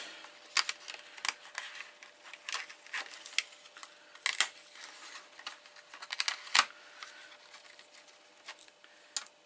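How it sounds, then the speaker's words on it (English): A Big Shot die-cutting machine cranks a card through for an Easter egg box, giving faint, irregular clicking and ratcheting taps that rise and fall in short clusters over a quiet background. "Pop it through your Big Shot."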